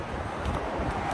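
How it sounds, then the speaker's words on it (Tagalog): Wind gusts steadily across an outdoor hillside on a cold morning, a constant broadband rush buffeting the microphone at close range, with no voices. "Ay, ang lamig! Ang hangin!"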